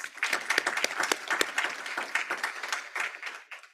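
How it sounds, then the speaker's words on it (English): Steady audience applause at a professorial inaugural address, a dense crowd of hands clapping together for a few seconds at moderate, slightly distant level. "So big applause for them, please"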